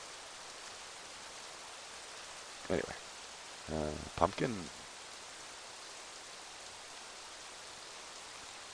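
Steady, even rain hiss from the video game Rising World fills the whole stretch, with a few brief bursts of someone talking over it around the middle.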